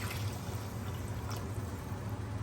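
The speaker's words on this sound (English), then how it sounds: "Then you add about 1 cup of water." A cup of water pours into a pot of rice and beer, giving a soft, steady liquid rush with a low hum beneath, close and quiet with no speech.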